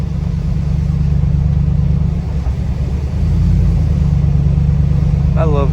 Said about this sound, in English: Listening to a V8 turn at low RPMs.